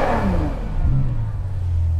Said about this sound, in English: I'll go ahead and blip the throttle a couple times.